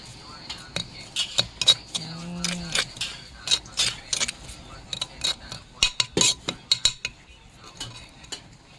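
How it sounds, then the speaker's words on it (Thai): Rat larb salad with chopped green onions being stirred in a bowl, a utensil clinking and scraping in quick irregular bursts, close and fairly loud, with a brief hum in the middle. "เติมต้นหอมลงไปค่ะทุกคนแล้วก็มาคน คนให้เข้ากัน"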